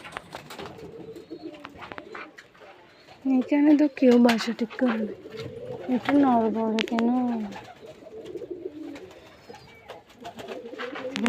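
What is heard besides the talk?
pigeons cooing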